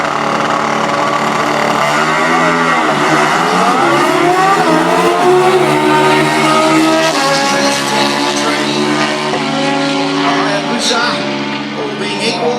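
Harley drag bikes launching off the line at a Winternats drag race in 2013, a loud, sustained engine roar with rising revs that stays close and dense throughout, with a commentator talking over it.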